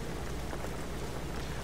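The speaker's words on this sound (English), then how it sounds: "Now it's raining." Steady rain in the driving game Jalopy, a dense continuous patter of drops with a low rumbling wash underneath, even and unbroken throughout.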